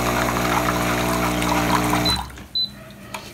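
A red Três Corações LOV capsule coffee machine pumps water through its rinse cycle, a steady gurgling pour that stops abruptly, followed by a couple of short faint beeps near the end.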